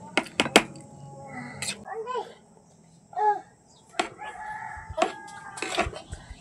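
Rooster crowing at a home with many chickens, a few short crowing and clucking calls near the mic, broken up by sharp clatters and excited voices talking over the scene.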